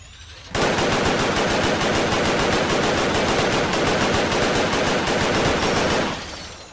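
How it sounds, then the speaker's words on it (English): Minigun fire from Fallout 4 roars as one unbroken, rapid rattling burst lasting about five and a half seconds. It is loud and close, with faint game ambience before and after. "I love my minigun"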